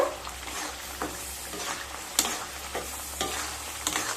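Coriander leaf paste being stirred into hot oil in a pan while making coriander pickle, with a steady low sizzle and scattered scraping clacks of the spoon at irregular intervals.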